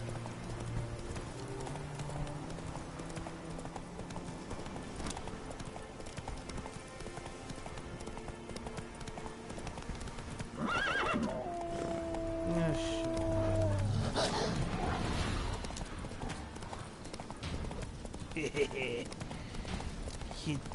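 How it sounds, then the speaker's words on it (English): Roach, a horse in The Witcher 3 video game, gallops with steady hoof clip-clop beats that grow louder midway, alongside other game sounds and someone talking. "Where's my dang horse?"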